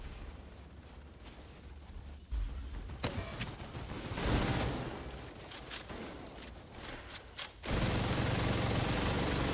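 Bursts of gunfire from a shooting fight in The Division 2, sharp cracks and rattling volleys at mid distance, swelling into a dense, loud sustained burst near the end.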